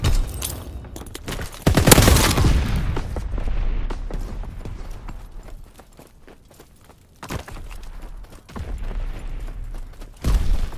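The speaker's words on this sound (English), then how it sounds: "Fighter pilot ready for strafing run." Game gunfire during a fighter plane strafing run in Call of Duty WW2, with a loud burst near the two-second mark, more firing and booms later, and a quieter stretch between the salvos.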